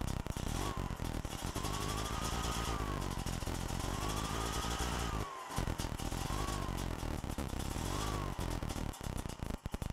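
A Buran snowmobile engine runs at idle during ignition timing with a strobe light, a steady, loud, throbbing two-stroke drone with a regular pulsing rhythm and one brief dropout.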